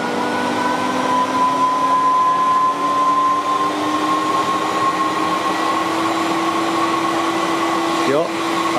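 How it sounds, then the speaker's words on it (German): A Miele S224 Electronic vintage vacuum cleaner from 1980 runs with a steady, even whine and airflow hum, ending in a brief clatter near the end; faint speech may sit under the motor. "Der ist bedeutend leiser, habe ich das Gefühl, als der 223er."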